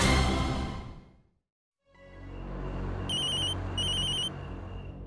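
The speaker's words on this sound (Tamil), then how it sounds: "சூர்யா தான் ஃபோன் பண்றான்" A telephone rings with an incoming call on a Tamil television serial, giving two short bursts of trilling bell tones over a low background hum after a brief silence.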